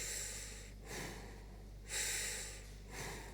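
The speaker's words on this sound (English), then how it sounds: "Now breathe 3 times." Three slow, quiet breaths drawn close to the listener during a neck-stretching routine, each a soft airy swell separated by brief pauses against a low background hum.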